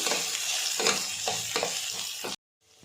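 Finely chopped onion with a spoonful of urad dal fries in a pan, a loud steady sizzle broken by several scraping stir strokes, then cutting off abruptly to near silence before a faint hiss returns.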